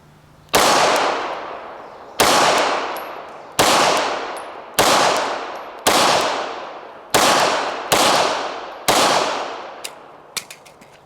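Seven loud, evenly spaced pistol shots from a Vickers edition Glock 17 firing soft 124-grain reloads at an outdoor range target, each sharp crack followed by a decaying ring, with a few faint clinks at the end.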